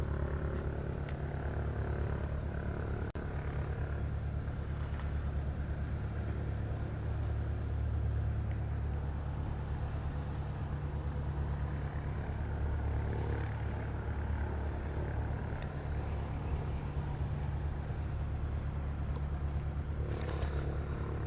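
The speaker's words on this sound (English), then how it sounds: "Japan Air is heading back to Osaka. It's a Dreamliner 9." A Japan Air Boeing 787-9 Dreamliner jet at Honolulu airport gives a steady low engine rumble and roar, continuous and fairly distant, with no talk over it.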